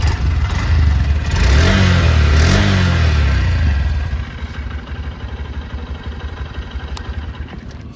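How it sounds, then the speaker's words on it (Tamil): A 2024 Honda SP125 motorcycle engine revs up and down a few times close by, rising and falling in pitch, then settles into a quieter steady idle. "நான் வண்டியை ஸ்டார்ட் பண்ணி ரைஸ் பண்ணி காட்டுறேன்."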